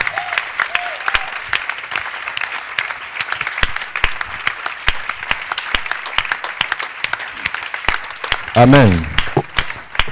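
A church congregation applauding for Jesus during a service, dense steady clapping throughout, with a voice rising loudly near the end.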